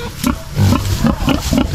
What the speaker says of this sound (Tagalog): Ayan yung mga baboy namin, gustong kumawala.